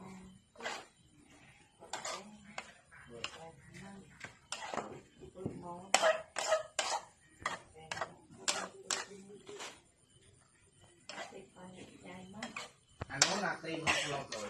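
Holy basil leaves are tossed into a canned fish stir-fry in a pan, giving scattered clinks and scrapes of a utensil against the pan in short bursts, with someone talking between them.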